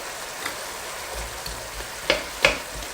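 Potatoes frying in a pan for a Korean-style dish give off a faint, steady sizzle, broken by two sharp clicks near the end like a utensil knocking the pan.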